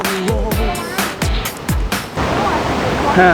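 Steady rushing water from the Mae Pun waterfall, where a check dam is being built, roars as a broad constant wash, first under someone talking and then alone.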